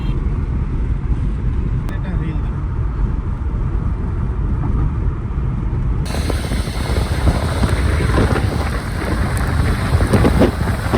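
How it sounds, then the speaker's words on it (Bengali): Rain and storm noise wash steadily around a vehicle on a flyover at night, a dense continuous roar that turns brighter and hissier partway through, with a sharp click early on. "ঝড় বৃষ্টি আসতেছে"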